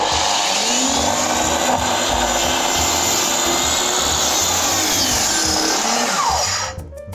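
Power saw cutting a siding board while building a work shed, a loud, sustained high-pitched whine with a grinding blade tone that winds down at the end.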